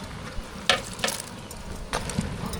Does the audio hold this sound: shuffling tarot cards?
no